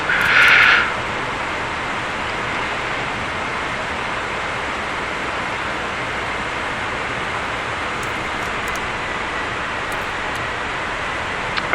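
An F-14B jet engine hums steadily in the DCS flight simulator, a constant broadband roar that runs unbroken, with a brief louder burst at the very start.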